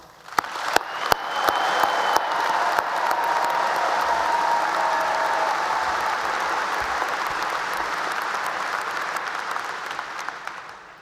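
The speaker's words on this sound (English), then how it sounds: "Now let's all give the class of 2024 a round of applause." At the Penn State College of Agricultural Sciences spring 2024 commencement, the audience gives the graduating class a dense, steady wave of applause. It lasts about ten seconds at an even level before tapering off, with no talking.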